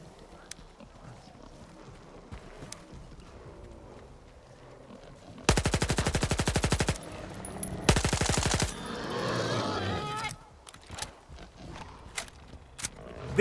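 Automatic weapon gunfire in the video game Stalker 2: two loud, rapid bursts of shots, the first lasting about a second and a half and the second shorter, over quieter ambient game sounds and footsteps.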